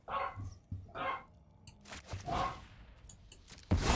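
A pet dog barks several times in short repeated bursts, fairly close and moderately loud, with a sharper bark near the end.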